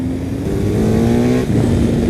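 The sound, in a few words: BMW R 1250 GS Adventure motorcycle engine accelerating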